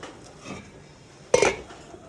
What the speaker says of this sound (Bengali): এখন এটা আমি একটু নেড়ে চেড়ে ঢাকনা দিয়ে দেব।